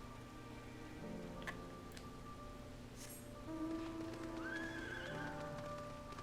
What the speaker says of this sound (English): I don't even think this horse is for Ramu.